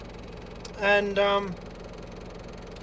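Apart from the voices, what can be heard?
Daihatsu 4x4 engine running with exhaust removed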